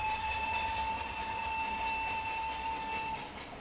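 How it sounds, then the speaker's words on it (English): A model train's steady, sustained whistle tone held for about three seconds over a constant rumbling background, cutting off near the end. "Quick whistle."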